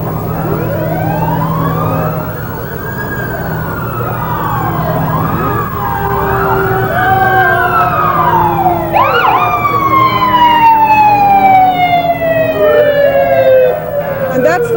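A fire engine siren at a St. Patrick's Day parade on Main Street, Johnson City, wails up and down, loud and close, its rising and falling sweeps overlapping and growing stronger toward the end.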